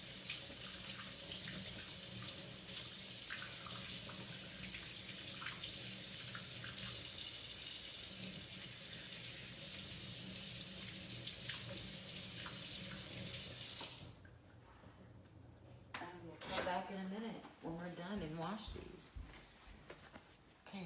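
A kitchen tap runs steadily while eggs are rinsed under warm water, a broad continuous hiss of flowing water that cuts off partway through, followed by faint handling sounds.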